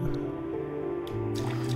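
A video game character wading into water, a wet squishing, dripping splash over a steady low hum, fairly close and loud.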